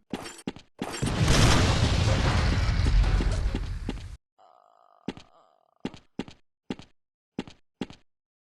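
A grenade blast in a shooter video game: a few sharp clicks, then a long, loud roaring explosion lasting about three seconds, a brief tonal hum, and a string of evenly spaced sharp knocks or shots afterward.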